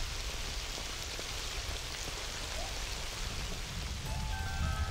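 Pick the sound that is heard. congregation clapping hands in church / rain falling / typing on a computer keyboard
rain falling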